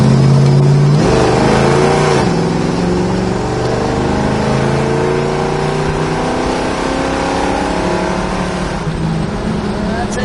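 A 1970 Plymouth Cuda's engine pulls loud and near as the car accelerates down the road, its pitch rising steadily over a constant drone, with someone speaking over it.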